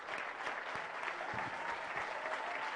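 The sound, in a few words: audience applause and cheering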